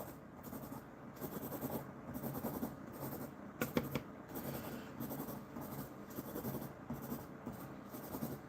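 Pen or pencil scratches steadily across paper while drawing, a close, quiet and continuous scratching with short rhythmic strokes and a brief sharper tap midway.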